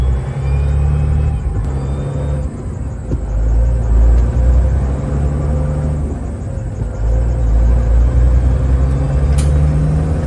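Steady low engine drone and road rumble from inside a moving Freightliner Argosy truck, with the pitch shifting slightly as it drives along; no talking.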